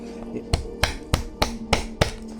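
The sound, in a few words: hammer cracking nuts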